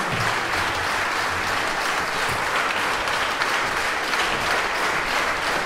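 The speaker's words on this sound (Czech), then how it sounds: "Váš potlesk opravdu provází umělce do šatén." Sustained audience applause fills a concert hall after a band and a youth symphony orchestra perform, steady and dense throughout with no talking.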